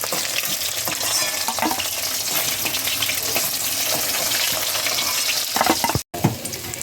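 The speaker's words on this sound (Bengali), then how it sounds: "মাছটা হালকা করে ভেজে নিয়েছি, এবার একে একে তুলে নেব।" Hilsa fish pieces fry in hot oil with a dense, continuous crackling sizzle close by, broken by scraping turns in the pan and a brief cut near the end.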